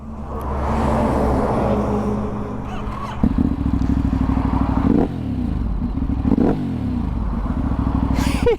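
A Ducati Hypermotard 950 RVE engine revving close by on the move, a loud steady rumble that climbs and drops through several throttle blips and gear changes.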